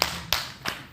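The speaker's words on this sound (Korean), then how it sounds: "감사합니다. 박수 주세요." A church congregation at an early-morning prayer service gives three quick, separate hand claps within a second, crisp and fairly near, with no talk over them.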